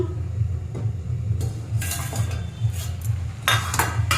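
A lid is lifted off a covered kadai of cooking pumpkin greens, giving several light metallic clinks and scrapes over a low, steady kitchen hum.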